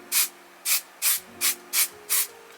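A hand spray bottle puffs a setting-spray style mist toward a face, six short airy hisses in an uneven rhythm over a faint steady hum, close and quiet.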